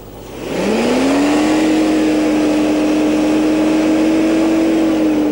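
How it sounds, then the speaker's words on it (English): A stock Lexus LS400 engine with around 150,000 to 160,000 miles is idling: after a brief start-up rise, a steady, smooth, loud hum settles in and holds evenly throughout. "And look how smooth the engine run. I mean, it sounds incredible."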